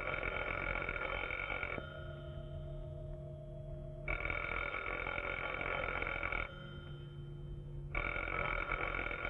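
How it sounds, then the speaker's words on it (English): An old-fashioned telephone rings in a radio drama, with two long, loud electric ring bursts separated by pauses, each ring a buzzy sustained tone with no voices over it. "When it stops ringing, call Johnny."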